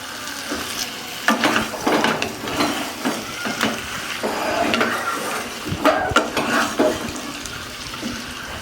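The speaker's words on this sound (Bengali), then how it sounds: "ভালো করে নাড়াচাড়া করে নেব।" Mutton being stirred with turmeric and salt in a pot, cooked village-style: repeated scraping, clattering stir strokes over a steady wet sizzle, close and moderately loud, with no talking.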